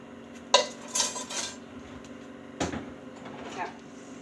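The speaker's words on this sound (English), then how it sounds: "we're just going to give this a mix. Just fold this in like this" Corn muffin batter folded and mixed in a bowl, with a few sharp spoon-on-bowl clinks and soft scraping strokes, close and fairly quiet, spread over a few seconds.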